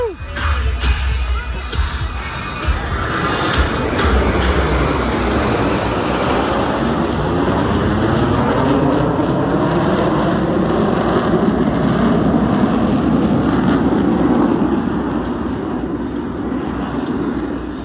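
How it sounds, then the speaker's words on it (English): US Navy Blue Angels jets roar past at an outdoor beach airshow, a loud, sustained, sweeping rumble that swells and shifts pitch as they pass, with a crowd and announcer audible underneath. "As the aircraft accelerates to 500 miles per hour, they'll perform a reversal turn back towards the flight line."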